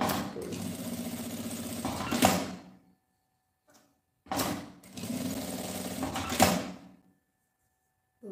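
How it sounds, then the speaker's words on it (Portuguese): Sewing machine stitching the edges of a fabric handbag, two loud close bursts of rapid stitching, each a couple of seconds long, separated by a quiet gap. "Já vou passar aqui uma costurinha de cada beiradinha."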